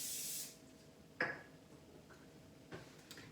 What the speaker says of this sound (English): I'm just going to put in a little bit of olive oil spray